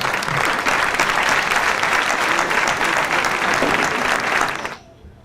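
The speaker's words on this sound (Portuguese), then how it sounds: "Uma salva de palmas." Dinner guests at a presidential campaign dinner for Manuel Alegre in Setúbal give a round of applause: thick, steady clapping from a large room that cuts off abruptly near the end.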